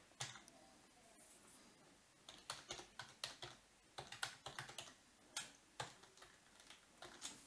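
Keys on a computer keyboard clatter in irregular bursts of quick taps, fairly close and quiet, with short pauses between runs while someone enters an email address into a database query.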